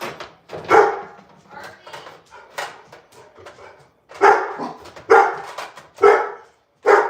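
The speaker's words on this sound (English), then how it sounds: "Dogs, no barking." Dogs bark at home in sharp, loud bursts, some single and some doubled, spread across the scene with quieter stretches between, while people talk nearby.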